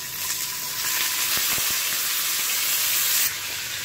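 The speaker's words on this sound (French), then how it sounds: "à feu vif, je vais faire dorer les noix de Saint-Jacques" Scallops searing over high heat in a hot pan give a steady, close broadband sizzle with a few sharp crackles as they are placed, continuous and fairly loud with no talking.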